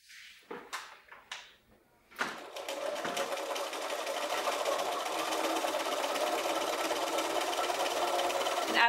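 A few clicks and knocks lead into a sewing machine stitching the seams of a patchwork pillow, its steady, close, mechanical whir building slightly in loudness and running continuously to the end.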